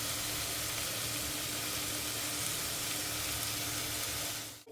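Sliced onions and shallots fry golden in a pan for a beef dish, giving a loud, dense, unbroken sizzle up close that cuts off abruptly at the end.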